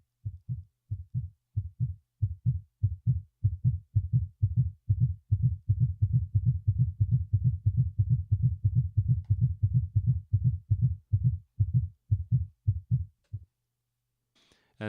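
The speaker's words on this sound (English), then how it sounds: "So you have the heartbeat, which is its own nested events." A steady, deep heartbeat sound effect thumps in regular double beats for about thirteen seconds, loud and alone, then stops abruptly, built as a nested event in an FMOD demo.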